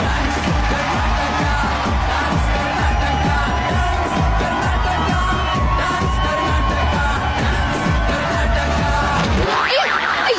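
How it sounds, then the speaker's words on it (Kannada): A crowd clapping and cheering on a film set as the scene is called, a steady loud roar of many hands with shouts and whoops throughout, cutting off abruptly near the end. "ಚಪ್ಪಾಳೆ"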